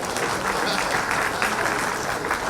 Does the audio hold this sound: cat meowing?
no